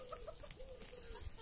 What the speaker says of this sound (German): Und dieser schöne Hahn hier.